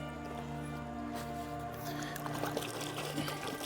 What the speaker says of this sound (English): and we're just going to wet that poncho.